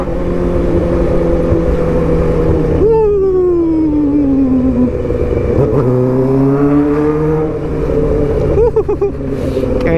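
A 2008 Suzuki GSX600R sport motorcycle being ridden in traffic, its engine droning loudly with rising and falling revs as it accelerates and shifts, close to the rider throughout.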